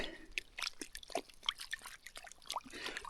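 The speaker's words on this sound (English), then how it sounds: "Just clean my sponge." A sponge is rinsed under warm water on a misty trail, giving faint, irregular splashes, drips and squelches, close by and quiet.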